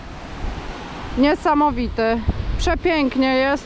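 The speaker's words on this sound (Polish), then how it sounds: "Jesteśmy na szczycie wodospadu. Widzicie, tak wypływa daleko, daleko z gór, z lodowca wodospad." Glacier-fed waterfall seen from the top, a continuous broadband roar of flowing water under someone speaking in Polish for much of the time.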